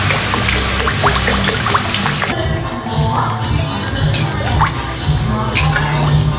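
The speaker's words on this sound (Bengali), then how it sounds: "জল দেখো আমি এবার জল দিয়ে দিচ্ছি।" Water poured into a pan of cooked spice masala that has already released its oil, the base for a katla fish curry; a steady, close splashing pour with light dripping, no talk over it.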